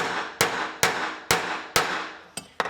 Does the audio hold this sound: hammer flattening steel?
yes